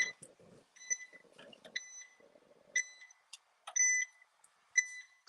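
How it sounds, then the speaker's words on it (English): A kitchen appliance, likely a blender, beeps when ready: a series of short, sharp electronic beeps in irregular clusters, fairly close, separated by quiet gaps with faint low rustling. "That thing is serious about beeping when it's ready to go."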